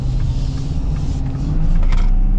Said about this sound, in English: Gotta love that high output power stroke